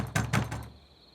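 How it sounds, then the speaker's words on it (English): Four firm knocks on a door in quick succession, the first two loudest, fading into a brief quiet tail. "that Eva heard a loud knock on her door."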